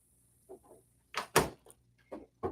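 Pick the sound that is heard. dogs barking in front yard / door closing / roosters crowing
door closing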